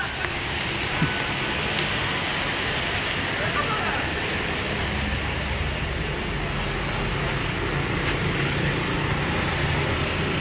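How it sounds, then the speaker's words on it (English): Heavy tropical rain pours steadily in Panjim, Goa, in a dense, continuous hiss, with a vehicle faintly passing underneath and a few scattered clicks. "it is like tropical downpour, so it's really heavy"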